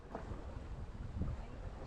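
A Thames sailing barge under full sail moves quickly through the water, giving a steady broad rush of water and wind, fairly faint and continuous with no talk.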